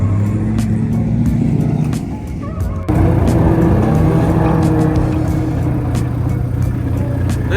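A BMW E46 drift car's engine revs loudly at a drift event on an airport, a steady heavy roar that surges louder partway through.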